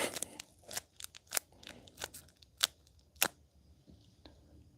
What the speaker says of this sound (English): I hope your friends like the sound of little crinkling plastic.